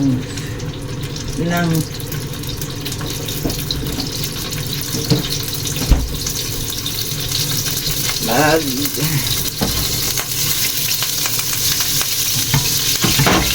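Beef slices sizzle and fry in a hot pan while a spoon stirs and scrapes through them, with running tap water and a faint voice in the background of a home kitchen.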